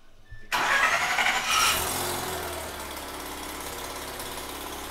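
A rebuilt big-turbo Mazda RX7 rotary engine cranks and fires up after a short silence, flaring loudly for a moment before settling into a rough, lumpy idle close by.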